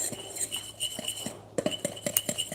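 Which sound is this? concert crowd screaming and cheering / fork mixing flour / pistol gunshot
fork mixing flour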